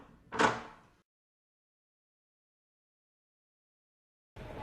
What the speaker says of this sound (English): Tap on the door handle so Rhino can leave the house.